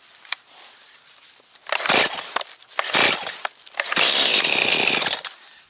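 Stihl MS211C chainsaw being cold-started on full choke, with several loud pull-cord bursts and brief sputtering catches in between, up close.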